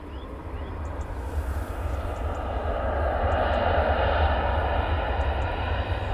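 An airplane at London Luton Airport builds from a distant rumble to a broad, loud roar and whoosh across the runway over several seconds, steady and unbroken, heard outdoors from a distance.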